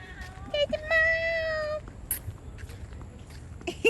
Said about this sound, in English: it's a jungle kitty